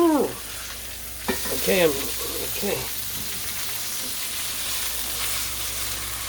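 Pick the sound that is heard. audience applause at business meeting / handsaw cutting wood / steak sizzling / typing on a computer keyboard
steak sizzling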